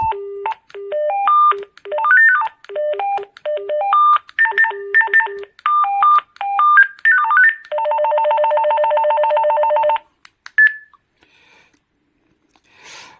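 A series of AWANFI walkie-talkie ringtones, loud electronic beeping melodies one after another, then a long buzzing trill and a brief tone before quiet.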